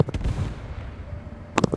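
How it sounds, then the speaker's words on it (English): Short bursts of machine gun fire ring out during a War Thunder realistic tank battle, a few sharp rapid shots at the start and again near the end over a rumbling battlefield background. "I think something just shot machine gun from there."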